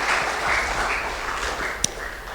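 A church congregation claps together during a worship service, a steady wash of applause with one sharp louder clap near the end.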